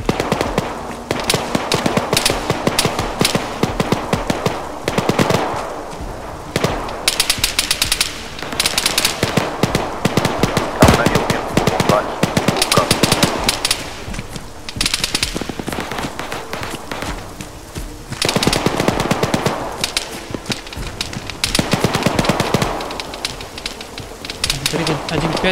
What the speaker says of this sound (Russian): Противник стреляет